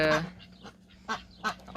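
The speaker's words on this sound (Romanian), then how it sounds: "Mai am aici o rață albă" A small white duck that has been ill quacks in a few short, close calls, the first loudest, with brief pauses between them.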